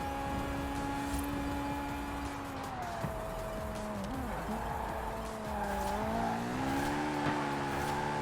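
Race cars drift through corners in Need for Speed Heat or Forza Horizon 4, steady engine drone with long wavering tire squeals rising and falling throughout, loud and continuous with no talk.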